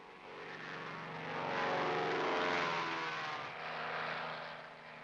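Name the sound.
helicopters and fixed-wing aircraft flying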